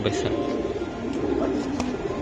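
Giribaj pigeons, silver khaki and red khaki, coo softly at close range in a loft, low rolling calls repeating beneath nearby voices.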